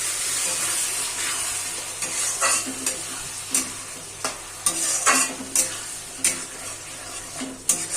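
Water is stirred into sizzling spice masala in a pan for a katla fish curry: repeated scraping strokes of a spoon against the pan at an uneven rhythm, over a soft continuous fry, with no talking.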